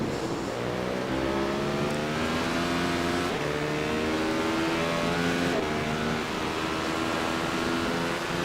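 Inside a V8-powered Radical SR8 racing at Interlagos in a video game, the engine screams close and loud, rising through the revs with several gear changes and climbing again after each one.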